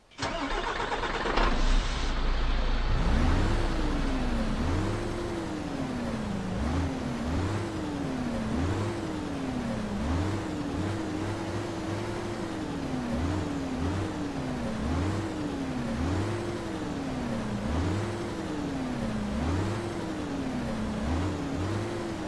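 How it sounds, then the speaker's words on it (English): A MAN TGX Euro6 truck engine in Euro Truck Simulator 2 starts, then revs repeatedly in a steady rising-and-falling pattern over a low rumble, loud and close with no talking. "rev the engine a little bit so you guys can hear what the engine actually sounds like"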